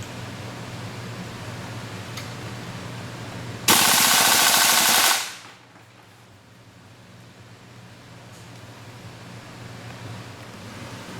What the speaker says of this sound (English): And now we switch to the full auto and test the rate of fire.